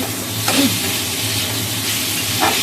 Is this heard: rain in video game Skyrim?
no